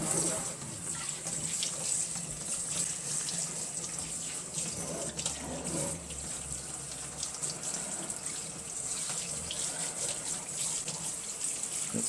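Tap water runs steadily from a faucet while a dog is bathed, a continuous close gush that lasts the whole time, with a few soft murmured words from a person now and then.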